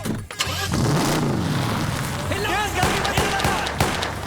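A car's engine fires up and revs as it pulls away, loud and close, with rapid clattering bursts and shouted voices over the engine noise throughout.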